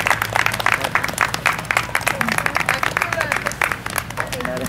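Audience applause at a talk on modern lifestyle and health, dense clapping filling the room, loud and continuous, with voices mixed in.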